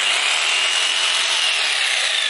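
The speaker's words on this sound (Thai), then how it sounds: "สำหรับเลื่อยจิ๊กซอนะครับ ใช้งานไม่ยากนะเพื่อนๆเดี๋ยวลองฟังเสียงเครื่องดูนะครับ" An electric jigsaw runs continuously, a loud, steady high-pitched buzzing whine held without pause or talk, close to the listener.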